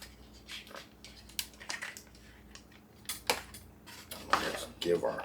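Soft rustling and scraping come in short, irregular bursts as a utensil stirs freeze-dried beef and beans rehydrating with hot water inside a pouch, close by in a quiet space.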